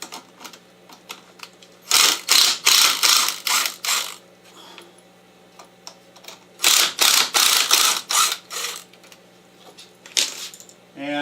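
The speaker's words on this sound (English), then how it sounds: "So let's go ahead and disassemble it" Screws are being removed to take apart a golf ball setter: two loud bursts of rapid, rattling mechanical clicks, each lasting about two seconds and separated by quieter pauses, heard close up with no talking.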